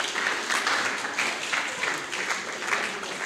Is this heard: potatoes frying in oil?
no